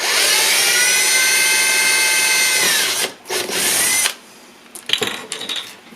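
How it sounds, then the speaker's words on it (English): A power drill bores a small angled hole in wood, giving a loud, steady high whine for about three seconds, then a short second burst, and after that a few faint clicks and knocks. "And I drill these at an angle."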